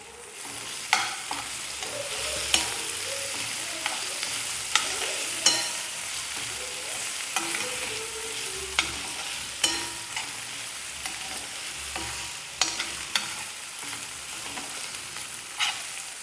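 Onions with cumin and turmeric sizzle steadily in a pan for an egg curry while a spoon stirs and scrapes in repeated clinks against the vessel.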